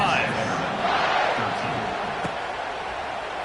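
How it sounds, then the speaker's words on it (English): A stadium crowd in an NCAA college football video game, a broad sustained roar and cheer filling the background at a steady level while a commentator talks over it. "this crowd is feeling themselves after that last drive"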